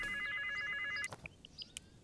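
A telephone rings in the farming video game The Ranchers, with a bright electronic double-tone trill for about a second, followed by a few soft chimes and clicks.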